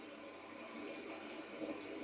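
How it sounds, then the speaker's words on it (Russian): A forest stream of running water gives a steady, soft, continuous wash, faint and fairly distant, with no talking over it. "бегут ручьи лесные"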